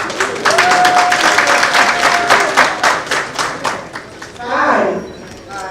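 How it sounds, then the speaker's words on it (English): Wedding guests at a Lagos ceremony clap for the couple in a lively burst of many hands, fading out over a few seconds as voices and a murmuring crowd rise in its place. "Please clap for them."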